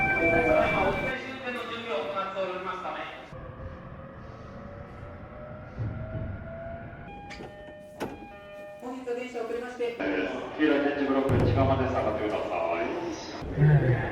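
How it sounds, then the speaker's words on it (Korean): A train on a Japanese line heading to Tokyo's Ueno Station rumbles and hums along the rails, its rising and falling tones and occasional rattles heard from inside, with a voice talking over it. "드디어 도쿄 우에노역으로 가는 열차를 타도록 하겠습니다."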